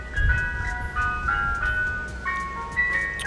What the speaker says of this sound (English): it's been a while since we heard an ice cream truck in the background of one of our videos